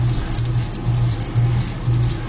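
Water runs from a pump line that is struggling to hold a steady flow, a continuous close hiss and gurgle pulsing in regular surges roughly every half second.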